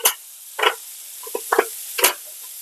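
Burgers sizzle on a Blackstone griddle running a little hotter than medium: a steady high hiss with several louder crackling bursts and small knocks, close by, with no talking.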